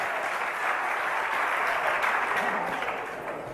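An audience at a religious discourse in Indirapuram claps together in a continuous burst of applause, close and full, easing slightly toward the end.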